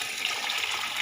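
Homemade yakhni stock pours in a steady, full-bodied stream over sautéed vegetables and chopped green chillies in a pot for vegetable pulao, heard briefly and up close.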